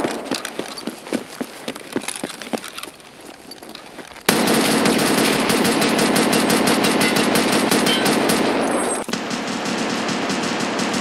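Rapid bursts of video game gunfire crackle in quick succession, followed by a long, dense stretch of continuous shooting and rumbling, loud and close.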